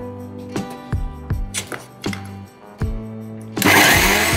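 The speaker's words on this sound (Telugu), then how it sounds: "చూసారా అండి, ఇట్లాగా పౌడర్ చేసుకోవాలి బాగా మెత్తగా" Electric mixer grinding urad dal with cardamom pods into fine powder, running in short repeated bursts with pauses, then a loud sustained high-speed whir at the end.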